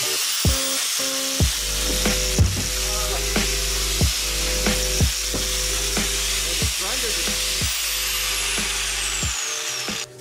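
A worn-out angle grinder running in a shop, a loud continuous droning hum with repeated clicks and scraping knocks over it, its pitch steady until it abruptly stops at the end.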